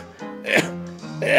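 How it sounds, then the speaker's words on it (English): A single sneeze from a man playing Cuphead, close and fairly loud, with a short breathy buildup and a sharp burst, then another vocal burst right after. "I'm gonna sneeze here real quick"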